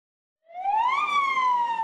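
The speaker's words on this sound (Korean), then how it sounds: "소방차가 사이렌을 울리며 이면 도로로 들어옵니다." A fire truck's wailing siren rises sharply and then holds a long falling tone, loud and clear, heard alone without any talking.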